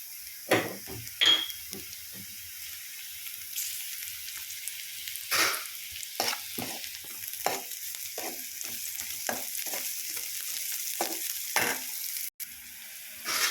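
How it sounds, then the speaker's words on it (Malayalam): Sliced onions sauté with a pinch of salt in a pan for a mixed vegetable thoran, with a steady sizzle and repeated scraping stirs of a utensil against the pan. No one speaks. "സവാള ഒന്ന് വഴന്ന് വരെ ഒരു നുള്ളു ഉപ്പ് ചേർത്ത് കൊടുക്കാം"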